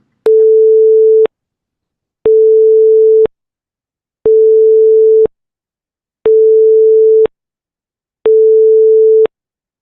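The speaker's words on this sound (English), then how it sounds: "I'm going to play you these 5 notes, one after another, and they will all sound exactly the same to you." Five identical synthesized steady tones, each lasting about a second, sound one after another with equal silent gaps, evenly spaced and clean, like a busy signal.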